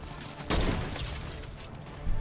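Rapid gunfire rattles in the video game Fortnite, a dense, loud burst of shots that stays close and continuous for about two seconds.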